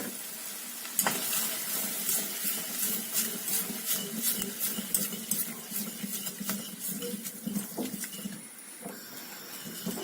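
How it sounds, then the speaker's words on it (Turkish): Tomato paste frying in a pan while a wire whisk stirs it: a steady, close sizzle with rhythmic scraping and patter from the stirring, and no one speaks. "Şimdi cazırdamalar gelmeye başladı."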